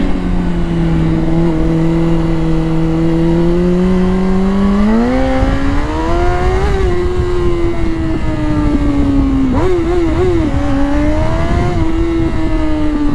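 A 2004 Honda CBR 600RR motorcycle engine runs loud and close, its steady drone climbing and falling through several revs and swells, with no voices over it.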